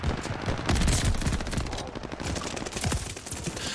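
Dense automatic gunfire crackles in Call of Duty Vanguard multiplayer, loud rapid shots layered into a continuous rattle that fills the moment, with a voice faintly present underneath.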